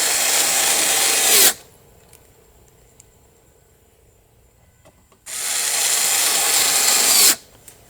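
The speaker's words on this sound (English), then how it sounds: "I'm leaving the track in its place, putting these screws back in" A power drill drives screws back into a wooden dresser drawer track, two loud sustained whirring bursts at the start and end, separated by a quiet pause with faint handling clicks.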